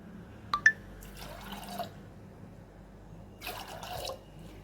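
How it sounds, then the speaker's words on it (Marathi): Water is poured into soaked chana dal in two short, fairly quiet bursts, with a couple of faint drips before them in an otherwise silent kitchen. "ह्याच्यामध्ये मी दोन वाट्या पाणी घालणार आहे"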